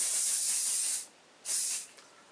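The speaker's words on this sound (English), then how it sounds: "just spray it over like that." Two bursts of hairspray hiss close by, a long one about a second, then a short pause and a shorter second burst.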